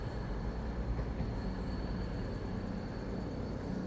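Class 222 CrossCountry diesel train at Derby station, a steady broadband rumble of engine and wheels with a faint high whine, heard close and continuous.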